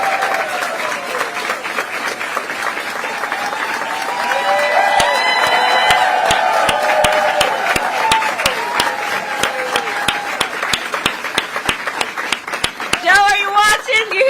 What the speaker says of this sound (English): Do you hear this clapping?